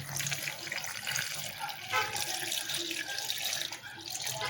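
Nearly a liter of water poured steadily from a tap onto strawberry juice ingredients, including jelly powder, making a continuous splashing, rushing flow with no talking.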